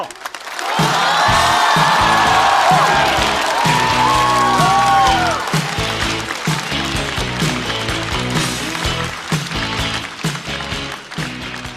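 Audience applause and cheering swell at a Chinese stand-up comedy show as a comedian is welcomed back to the stage, loud and sustained for several seconds over upbeat entrance music.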